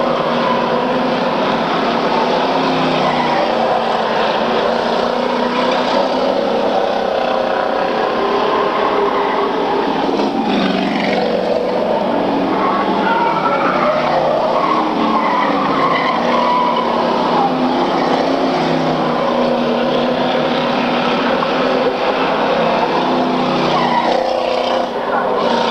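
Street stock race cars roaring around an oval track in a 1995 race, a dense, continuous engine drone with tire noise, loud and sustained throughout under a race announcer's commentary.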